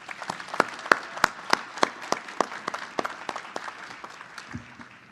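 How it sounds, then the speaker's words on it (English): A commencement ceremony audience gives a speaker a round of applause, scattered distinct claps from a small, fairly distant crowd, sparse and thinning out over a few seconds. "How about another round of applause for Sarah?"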